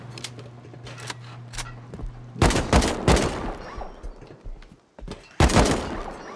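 Gunfire in the survival video game Rust, several sharp bursts and single cracks spaced across the moment, loud and close, with quieter clicks between.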